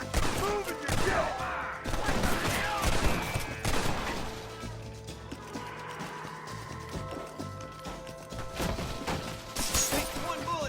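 Red Dead Redemption gunfire comes as repeated sharp shots and volleys, close and loud. Crashes and horse hoofbeats mix in, and voices talk over parts of the action.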